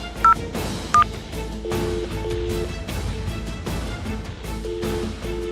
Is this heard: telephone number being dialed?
yes